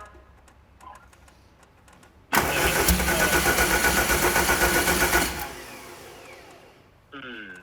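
A rally-prepared VW Golf engine cranks and fires for the first time, settling into a loud, steady run for about three seconds before cutting out, with quiet ticking and shuffling before it and a short voice at the end.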